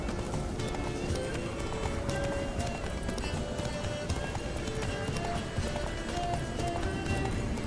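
Geralt's horse gallops in The Witcher 3: Blood and Wine, its hooves pounding in a fast continuous clip-clop under a dense wash of game sound and effects.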